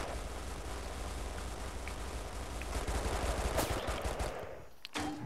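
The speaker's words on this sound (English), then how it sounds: "placing a few machine gun turrets up on this high ridge here" Rapid machine gun turret fire in the tower-defense game iBomber Defense Pacific, a dense continuous rattle of automatic shots that swells midway and cuts off near the end, with a few sharper bursts.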